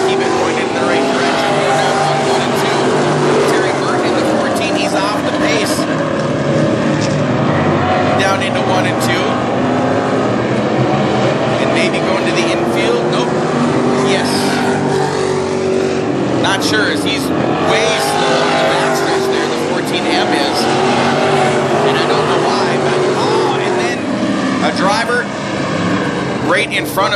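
WISSOTA Midwest Modified race cars racing at North Central Speedway, a loud continuous engine roar that rises and falls as cars pass, under an announcer talking throughout.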